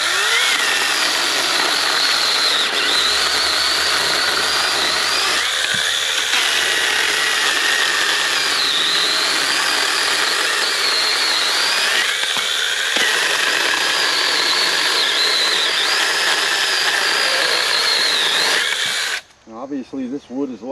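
Small battery mini chainsaws, a Saker and a Sainlogic, cutting through a hard maple log with a loud, continuous high motor whine and chain rasp that strains in places for about nineteen seconds before cutting off abruptly.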